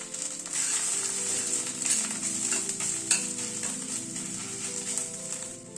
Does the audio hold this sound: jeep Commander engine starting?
no